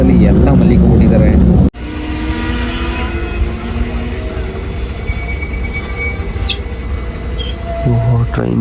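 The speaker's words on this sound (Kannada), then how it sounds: "ಟ್ರೈನ್ ಸ್ಟಾಪ್ ಆಗೋಯ್ತು." A train brakes to a halt with a long metallic wheel squeal grinding on for several seconds after a loud rumble cuts off abruptly, heard close from on board, with faint background voices.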